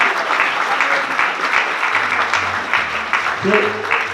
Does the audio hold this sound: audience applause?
yes